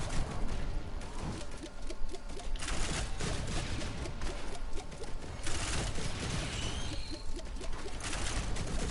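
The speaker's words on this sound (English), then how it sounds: "my engineer turret's still alive, and it's still killing things" An engineer's turret in Risk of Rain 2 fires in dense, rapid bursts, with busy game sounds and chirping effects layered over the steady crackle of gunfire.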